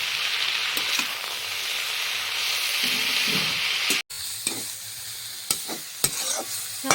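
Vegetables sizzle steadily as they fry in oil in a pan with salt and turmeric, with scrapes and taps of stirring rising near the end after a brief pause, close and continuous with no talk.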